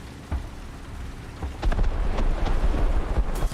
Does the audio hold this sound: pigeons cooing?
no